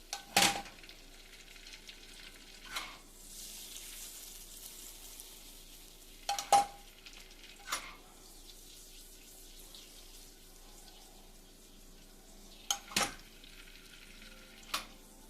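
Popcorn on the cob shaken around in a pan on the stove: a faint sizzle under a few sharp, separate bursts of rattling and scraping, spaced several seconds apart, with no talking.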